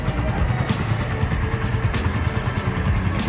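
A large motorcycle, a scrambler project bike fitted with a skid plate, runs steadily nearby at a low rumble, with busy street traffic filling the background.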